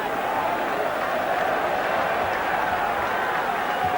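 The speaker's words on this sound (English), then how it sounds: "Harkouk gets a big cheer" Football crowd at a 1986 FA Cup fourth-round match in England cheering as a returning substitute comes on, a steady broad roar of many voices, loud and continuous throughout.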